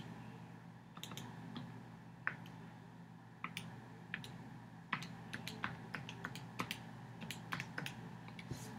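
Key presses on a graphing calculator keypad, a series of small sharp clicks in uneven bursts over a low steady background hum, fairly faint and close, with no talking.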